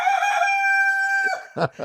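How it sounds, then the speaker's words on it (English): A rooster in the garden of the Küçük Ayasofya Mosque in Istanbul gives one loud, close, sustained crow that ends in a couple of short clucks. "This is the rooster from the garden of the Küçük Ayasofya Mosque."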